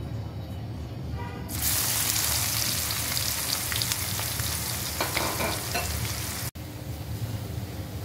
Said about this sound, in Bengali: সেম তেলে এখন আমি পেঁয়াজ ভেজে নেব। পেঁয়াজ হালকা করে ভাজবো